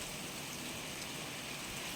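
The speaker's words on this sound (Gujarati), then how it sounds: "હા પાછો વરસાદ આવી ગયો ફૂલે ફૂલ" Steady rain falls around a farmhouse, a soft, even hiss of drops on surfaces that runs unbroken from start to finish with no voices over it.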